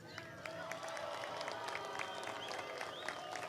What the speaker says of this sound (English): Give a round of applause for Richard Schaefer.